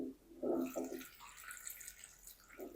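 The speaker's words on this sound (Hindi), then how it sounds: "और इसमें हम शामिल कर देंगे 1 गिलास पानी" A glass of water is poured into a pan of spinach, making a short, soft splashing pour up close with a brief trickle at the end and no talking.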